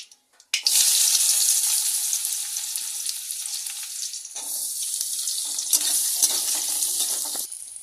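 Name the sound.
frying onion with dried chili and cumin in a pan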